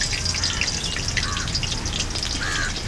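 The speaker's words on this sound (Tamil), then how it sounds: "எண்ணெய் சூடாயிடுச்சு வெங்காயம் போடுறேன்" Onions fry in hot oil with a continuous crackling sizzle, loud and near, while birds chirp faintly in the background.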